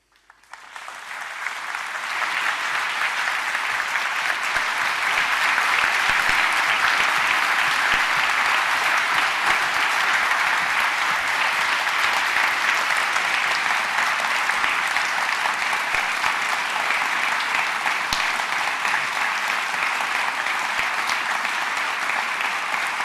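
Audience applause after a conference speech swells in within two seconds and continues as a steady, dense clapping from a large crowd, with no voices over it.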